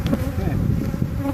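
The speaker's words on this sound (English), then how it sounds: "there's a lot of bees in here." Dense, close buzzing of many honeybees inside a hive built in a suitcase, a steady droning hum with no pauses.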